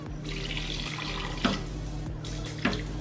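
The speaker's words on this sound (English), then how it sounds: "I'm gonna add a little bit of water." Distilled water runs steadily into a 6-quart Instant Pot Lux, a continuous close pouring and splashing with a couple of brief louder gurgles.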